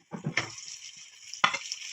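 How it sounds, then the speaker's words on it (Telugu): Raw prawn chutney hits a hot pan with curry leaves, a steady close sizzle with a couple of sharp utensil scrapes as it is stirred. "ఇప్పుడు దంచుకున్నటువంటి పచ్చిరొయ్యల పచ్చడిని ఇందులో యాడ్ చేద్దాం"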